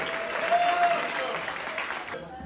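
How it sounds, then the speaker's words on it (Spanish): An audience at a stand-up comedy show applauds, steady loud clapping filling the clip that cuts off abruptly near the end. "Un aplauso para Cuba también."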